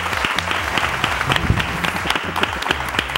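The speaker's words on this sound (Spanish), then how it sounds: "tengo que pedir un aplauso," A studio audience on a television program claps steadily together, busy and fairly close, with some low rhythmic background sound running underneath.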